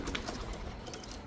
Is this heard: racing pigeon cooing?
yes